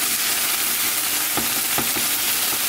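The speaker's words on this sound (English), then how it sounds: "And just let that mix" Black and pinto beans with garlic powder and oregano simmer and sizzle in a pan, a steady close bubbling hiss with a few soft stirring clicks and scrapes.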